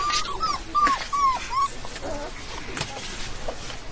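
A puppy with an injured paw whimpers in a series of short, high, plaintive whines, close and fairly loud, followed by softer whimpers and rustling in the background.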